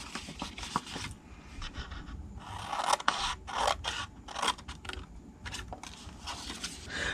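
Scissors snip through cardstock up to a score line while making a Halloween treat box, a steady run of close, crisp cutting strokes and paper rustles, with no talking.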